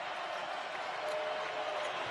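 Basketball arena crowd on their feet at a Northwestern at Penn State college game, a steady broad roar of cheering and clapping held throughout at moderate level.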